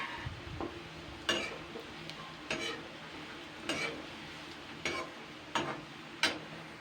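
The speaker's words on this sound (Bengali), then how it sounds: "আমি কিন্তু হাই হিটেই কিন্তু এগুলোকে ভেজে নিচ্ছি" Bread pieces fry on high heat under a faint sizzle, while a spatula scrapes and taps the pan in regular, fairly quiet strokes about once a second.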